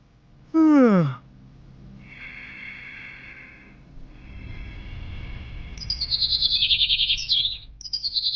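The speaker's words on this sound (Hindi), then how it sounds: "अगली सुबह चिड़ियों की चहचहाट सुनकर" Birds chirp and tweet in a bright, repeated morning trill, preceded by a short breathy snort-like sound, with a soft steady background.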